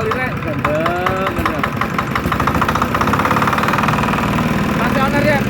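An 8 HP diesel hopper engine runs at high idle, a loud, steady knocking chug with a rapid pulsing rhythm, while someone talks over it throughout.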